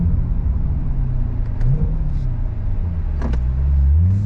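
A C8 Corvette Stingray pulls away on throttle, a steady low engine rumble rising and sweeping in pitch as it accelerates, heard from nearby without speech.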